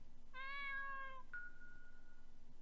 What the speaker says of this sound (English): There's a kitty.